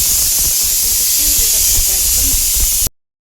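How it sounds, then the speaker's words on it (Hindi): A kitchen pressure cooker hisses loudly and steadily as it vents steam, a dense close whoosh that runs unbroken for a few seconds and then cuts off abruptly. "एक सीटी और आते कुकर में तो निकाल दूंगी"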